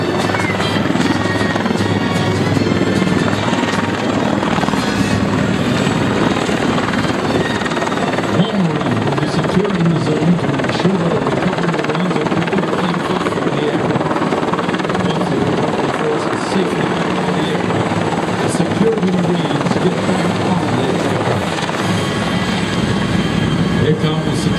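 CH-53 military helicopters fly at an air show at Kaneohe Bay, Hawaii, their loud, continuous rotor and turbine roar dominating the scene at close range without letup.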